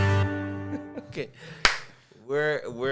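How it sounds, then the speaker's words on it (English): A single sharp hand clap marks the start of a podcast recording, a crisp close snap in the middle, with people talking before and after it. "Supposed to do that clap."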